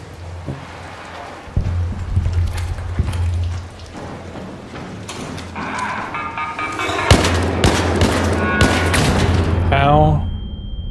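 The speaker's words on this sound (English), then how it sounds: "How terrible am I shooting this stinking gun?" Gunfire in the video game Arc Raiders: repeated sharp shots in irregular bursts with game sounds around them, and a voice talking over the action.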